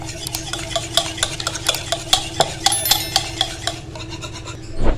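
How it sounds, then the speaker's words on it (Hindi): A spoon stirs a creamy macaroni pasta mixture in a pot, with rhythmic scraping and clinking strokes at close range, a faint sizzle beneath, and a louder knock at the end. "इसको हमने बहुत अच्छे से मिक्स करना है कि एक क्रीमी सा इसका टेक्सचर बन जाए।"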